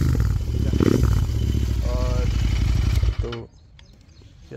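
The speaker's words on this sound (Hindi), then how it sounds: "270 डिग्री क्रैंक से आवाज़ अच्छी आती है, 180 से थोड़ी ख़राब आती है।" Royal Enfield Continental GT 650 with aftermarket exhaust, a steady throaty engine rumble loud and near, then cutting off abruptly near the end and leaving quiet.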